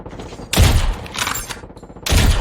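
Bursts of gunfire from a Call of Duty Mobile battle royale match come in three loud, close volleys with brief lulls between them.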